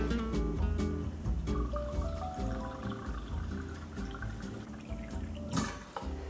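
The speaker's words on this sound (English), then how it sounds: "fill it up to this line with 5 ounces of room temperature water" Room temperature water poured into the water chamber of an OXO Rapid Brewer, a continuous close trickle and gurgle that rises gently as the chamber fills, with faint music beneath.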